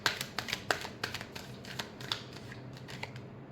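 Tarot cards being shuffled by hand, a quick run of crisp riffling flicks and slaps in uneven bursts, close and clear with no talking.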